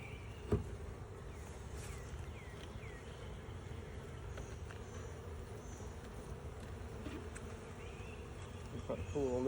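Honey bees buzz in a soft, steady drone during a hive inspection, with a few individual bees whirring past up close and faint handling noises.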